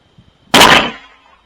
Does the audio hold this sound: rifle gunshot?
yes